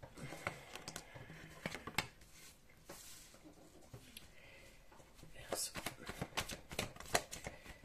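Tarot cards being shuffled and drawn, quiet close riffling and flicking bursts in clusters, with soft talk running over them.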